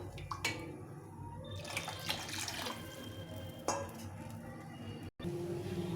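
Water poured into a cooking pot while making khichuri, splashing and trickling with a few sharp clanks of the vessel, fairly close and moderately quiet, ending in a brief pause.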